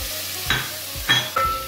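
Tomato stirred into onions frying in a stew pot for broiler chicken stew, steady sizzling with three scraping stirs of a spoon against the pot, close and without talk.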